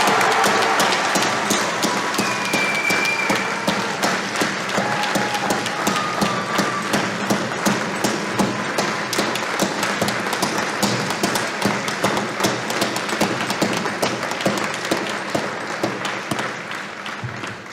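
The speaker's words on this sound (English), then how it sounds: "so it's worth a round of applause." Graduating students and guests at the 2021 Maine Maritime Academy commencement clap in a dense, continuous burst with sharp individual claps standing out, loud and close, with no speech over it.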